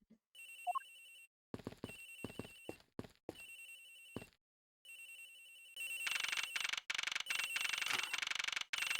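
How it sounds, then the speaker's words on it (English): A telephone rings aboard an airplane in the Ace Attorney Investigations video game, bursts of bright electronic ringing that stop and start, then a denser, louder stretch of continuous ringing, with no talking. "It sounds like the phone is still up in the flight attendant's room."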